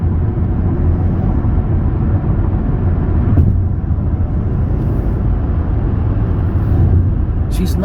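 A 2022 Mercedes-Benz GLA 35 drives on roads in Northern Kentucky, giving a steady, loud, low engine and road drone throughout with little variation.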